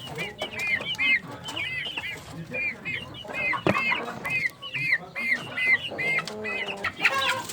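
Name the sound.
Pelung chicken clucking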